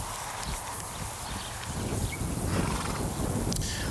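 A mare under groundwork training makes loud, close sounds of movement and shuffling that continue steadily throughout, with no talk.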